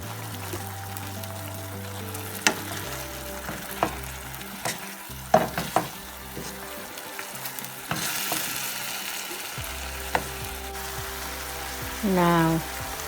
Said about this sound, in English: sauces is cooking and sizzling